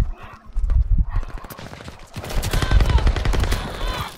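Bursts of gunfire in Call of Duty: Vanguard, a string of close, punchy shots clustered in quick succession over busy low battlefield rumble, loud throughout.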